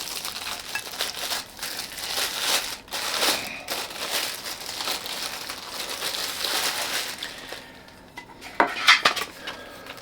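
Astercook cookware, including saucepans and a skillet, being handled and stacked with clanking metal knocks and rustling packaging crinkles, close and fairly continuous, ending with a few sharper clatters.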